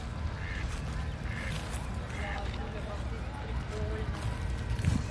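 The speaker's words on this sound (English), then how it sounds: "Ducks on the pond." Ducks quack on a pond in a city park in spring, with faint repeated calls scattered over steady outdoor background noise and other sounds.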